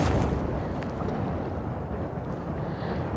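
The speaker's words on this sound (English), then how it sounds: "Oh, that was a big gust." Strong coastal wind in Eastern Passage, Nova Scotia, buffets the microphone in a steady low roar, swelling loud at the start, with no voices heard.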